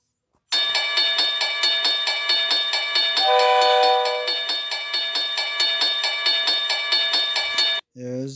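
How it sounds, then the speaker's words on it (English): A train starts up in the Roblox video game, giving a loud, steady rhythmic mechanical chugging with a sustained horn-like tone partway through. It cuts off abruptly before a brief different sound at the end. "There's the train."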